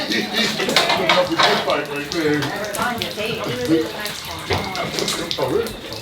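Tap water runs steadily into a sink while a freshly butchered chicken is rinsed, with splashing and clattering close by and voices talking over the flow.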